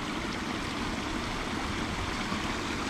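Water in a river, roughly six feet deep, flows steadily as a constant broadband rush, moderately loud and even throughout, with no voices.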